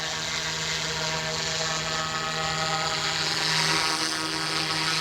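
Wolfbush AW-911 RC Airwolf model helicopter spooling up and lifting off slowly, a steady near whine of rotor and motor with a low hum, holding level and swelling slightly toward the end.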